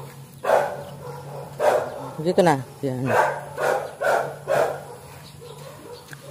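Several dogs, including a chihuahua and an aspin, bark in repeated bursts close by during a morning walk, with a short yelp or whine in between and a person talking over them.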